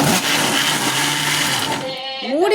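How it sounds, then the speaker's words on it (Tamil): A wet grinder churns idli dosa batter with a loud, steady droning whir that holds for about two seconds, then drops away as it slows and stops. "இல்லை இன்னும் கொஞ்சம் அரைக்கணும்."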